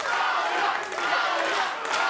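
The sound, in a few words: crowd cheering at Miami fight event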